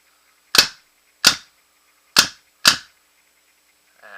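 A Proto Matrix Rail 2011 paintball marker with a quick exhaust valve and its eyes switched off fires four sharp, close pops with a full cycling bolt, irregularly spaced, with a faint rattle after.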